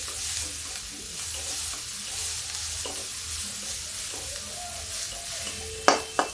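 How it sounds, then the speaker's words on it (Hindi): Onions frying in a pan for kadhi over a high gas flame: a steady, close sizzle runs throughout as the onions are stirred, with a couple of sharp utensil clanks near the end. "थोड़ा सा इसको भी हम लाइट ब्राउन भूनेंगे।"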